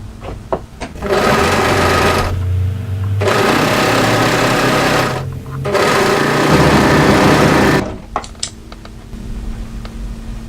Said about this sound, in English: now we're going to overlock it through this long edge here